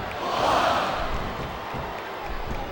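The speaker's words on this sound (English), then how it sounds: "This capacity crowd is making their opinions known tonight." An arena crowd in the wrestling video game WWE SmackDown vs Raw 2007 roars and cheers. The noise swells early, then holds as a steady wash of crowd sound.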